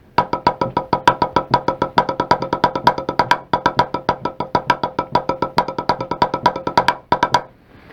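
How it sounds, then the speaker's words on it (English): Close, crisp drum strokes run in a rapid, even stream, moving from double paradiddle triplets into a 16th-note sticking pattern, with a short break and a final hit at the end. "if during the triplet portion of that we did the double paradiddle"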